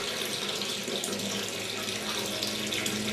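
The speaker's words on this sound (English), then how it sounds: "The knob is rotated until water flows out from the lower end of the controller." Water gushes steadily out of the lower end of a water level controller after the supply knob is turned on, a loud, continuous, close rushing flow like an open tap with no talking.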